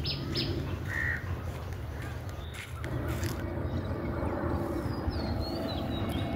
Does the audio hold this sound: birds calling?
yes